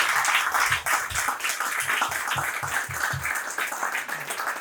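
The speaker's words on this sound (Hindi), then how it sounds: "तो जोरदार तालियों के साथ सर का स्वागत करेंगे हम" Audience applause welcomes a certified fitness expert onto the stage at a product presentation, a steady dense clapping wash of moderate loudness with a few low voiced sounds mixed underneath.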